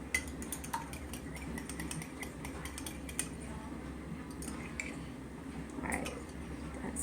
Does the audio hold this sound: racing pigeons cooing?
no